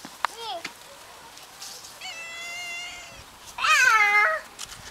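A cat meows several times, a short cry, then a longer drawn-out meow and a louder wavering one, close by, with quiet background.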